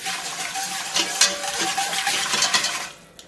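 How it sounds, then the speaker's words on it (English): A whisk stirs briskly through a soup base in a pot to smooth out lumps, giving a steady wet scraping and swishing with small metallic clinks throughout, easing off at the end. "So I've got the whisk, and the whisk is going to sort out any lumps."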